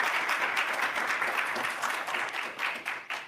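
A conference session audience gives sustained applause, a dense crowd of hands clapping steadily at moderate volume and tapering slightly near the end, with no talking over it.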